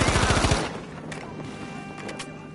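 Burst of rapid automatic gunfire from a teammate in Battlefield 5, a quick stuttering volley of shots for about half a second that cuts off, followed by a few faint distant cracks.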